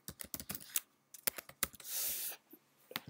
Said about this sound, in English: and then I'm just going to type my Web Video Chef's email